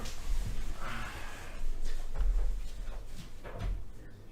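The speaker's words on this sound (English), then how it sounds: "Hang on, I gotta open my door." A door is opened indoors with a few muffled thumps and a brief rattle spread over several seconds, fairly close and quiet.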